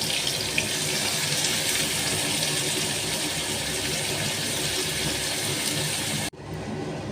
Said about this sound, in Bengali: কুড়ে রাখা লাউটা দিয়ে দিলাম।